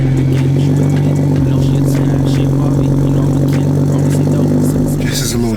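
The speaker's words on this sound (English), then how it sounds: "it's the perfect time to give y'all a cold start" Built junkyard BMW 335 with an N54 engine cold starting and running rough and loud, a strong steady low drone with clattering mechanical noise, heard close up.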